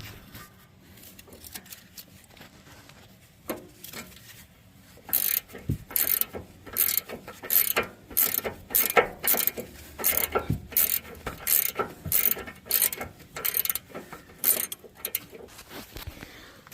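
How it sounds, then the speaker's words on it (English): Rapid ratcheting clicks from an open box wrench turning the strut stud nut on a 2015-2017 Ford Expedition front coilover, close and crisp in repeated bursts after a few quieter metallic handling noises. "a ratcheting open box wrench on the bottom"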